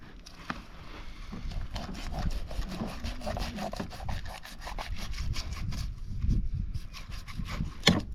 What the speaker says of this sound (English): coming back up front where the rib cage is, just going to cut down right here